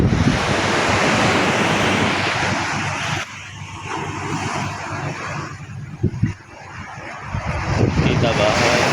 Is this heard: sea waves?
yes